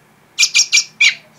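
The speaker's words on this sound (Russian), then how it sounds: "Птичка на руке сидит" A starling perched on a person's hand gives four loud, close, harsh chirping calls in quick succession, three evenly spaced and a fourth after a short gap, with no talk.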